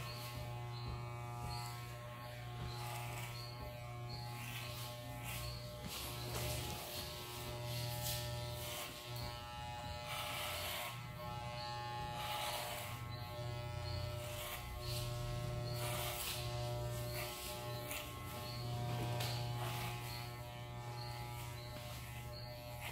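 Electric hair clippers cutting a fade in a barbershop hum steadily and close throughout, a continuous buzzing drone that shifts slightly in pitch as the blades move through hair.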